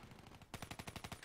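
Rapid gunfire in the video game Black Ops 3 comes as a quick burst of about eight shots in a tight rhythm after a brief pause. It is fairly faint and close, with no talk over it.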